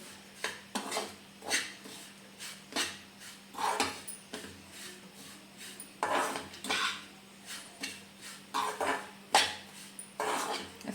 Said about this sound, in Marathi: चांगलं मिक्स करून घे बघा दोन मिनटं